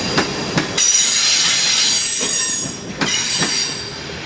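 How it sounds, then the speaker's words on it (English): A westbound Union Pacific freight train on the Dakota line, carrying an Illinois Central unit in its consist, rolls past close by with loud continuous rumble, squealing wheels and a few clicking rail joints, with no voices. "Here's a westbound UP coming up the Dakota line."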